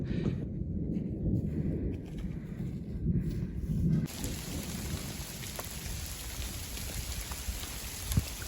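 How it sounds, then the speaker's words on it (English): Hail in the mountains, heard as a dense, steady patter of pellets across the surface, close and fairly loud, with a deeper rumble in the first half that then thins to a crisper hiss. "we've got hail up here."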